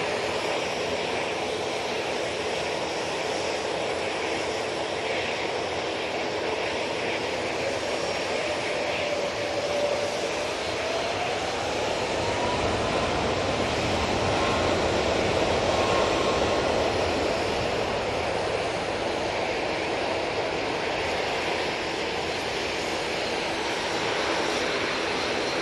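A Ryanair jet airliner at Manchester Airport gives off a steady, moderately loud engine roar with a faint rising whine, sustained without any talking.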